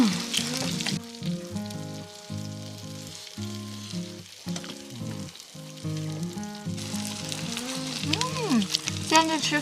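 Pork tripe pan-frying in hot oil gives a steady, loud, close sizzle and crackle that runs throughout, with music playing over it.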